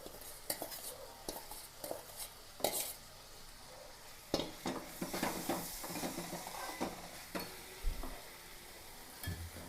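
Roasted ground coconut paste is stirred into bitter gourd curry in a frying pan. A spoon scrapes and clinks against the pan in irregular strokes over a soft, continuous sizzle, close up and alone.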